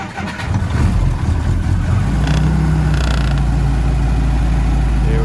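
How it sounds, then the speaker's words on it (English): A 1948 Willys Jeep CJ-2A engine cranks and catches, then settles into a loud, steady, low idle with a rough, tractor-like rumble, heard up close. "Now we're started up. It sounds like a tractor, as one might expect."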